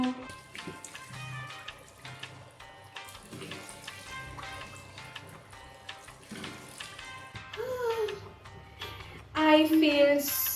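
Washroom tap running while skincare is rinsed off the face, a steady splashing flow of water with handling noises and a brief louder surge near the end.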